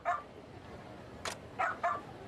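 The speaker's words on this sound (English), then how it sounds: "We can barely sleep with it barking its full head off like that." A dog barks in the samurai video game Like a Dragon: Ishin, with three short yaps spaced apart at moderate distance over a quiet ambient background, one near the start and two close together near the end.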